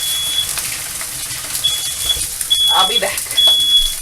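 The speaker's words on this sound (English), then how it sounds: "I'm setting up all the fire alarms now" Several home smoke alarms give short high-pitched beeps, four chirps spaced through the moment, heard over kitchen background noise while a person speaks briefly.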